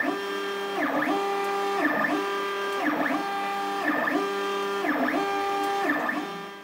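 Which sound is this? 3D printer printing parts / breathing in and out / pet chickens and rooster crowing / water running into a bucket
3D printer printing parts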